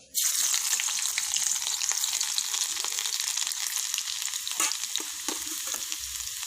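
Garlic dropped into hot oil in a home kitchen pan, bursting into a bright, steady sizzle right after a brief quiet start, with a few stirring scrapes and no talking.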